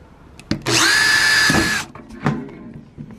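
A power drill boring a hole at home: a short tap, then a loud, steady high-pitched whir for about a second before the bit winds down, followed by a few handling clunks.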